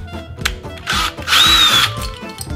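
A power drill backs a painted-over screw out of wooden door trim during a magnetic door stop install, with short whirring bursts and a longer sustained whine close by, no talking.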